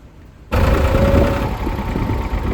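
A tractor engine running after a sudden start, a loud steady mechanical rumble with knocking texture that fills the clip, on a mountain road near Manali during a landslide traffic jam.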